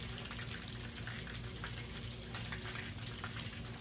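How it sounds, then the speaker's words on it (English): Sausages and breaded jalapeño peppers fry in a pan, giving a steady, fairly quiet crackling sizzle that runs without a break. "So, fry them up the best we can."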